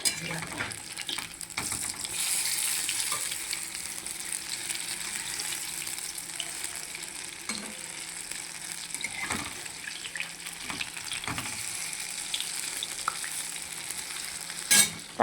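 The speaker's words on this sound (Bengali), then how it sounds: "আতপ চাল দিয়েছিলাম আর মুসুরির ডাল দিয়ে বড়াটা হচ্ছে।" Fritters of grated rice, masoor lentil, radish and potato fry in hot oil with a steady, close sizzle and bubbling that runs the whole time, with occasional clinks and stirring sounds.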